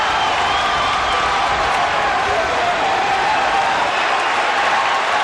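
Basketball arena crowd at an NCAA college game, Louisville at UCLA: a dense, steady roar of cheering and applause fills the whole clip, loud and unbroken, with a commentator's voice faintly underneath.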